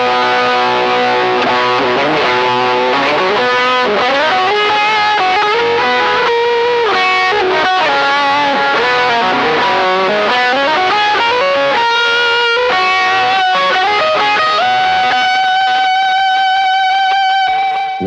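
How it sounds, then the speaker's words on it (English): Electric guitar played through a Donner Triple Threat distortion pedal, a loud, saturated and fuzzy tone with quick melodic runs and chords, ending on a long sustained note. "When we turned the distortion up"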